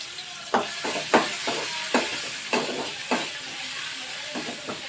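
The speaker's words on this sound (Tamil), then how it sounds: "நல்லா வதங்கட்டும்." Sliced large onions sauté in oil for a gravy, a continuous sizzle broken by regular scraping strokes of a stirring spoon against the pan, close and fairly loud.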